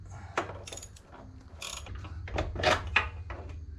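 Ratchet wrench with a swivel socket working a radius rod bolt on a Can-Am Maverick X3, giving short bursts of clicking and metallic clatter of varying strength.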